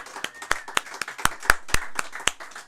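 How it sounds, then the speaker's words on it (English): A small audience applauds at a poetry reading, with about a dozen crisp, separate claps spaced unevenly over a few seconds rather than a full ovation. "Let's applaud the man again."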